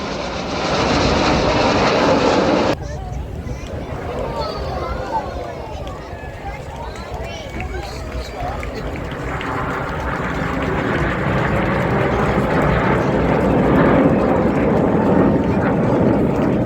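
Red Arrows display jets flying aerobatic manoeuvres at an airshow, with a steady loud roar of jet engines that swells toward the end while commentary continues over it.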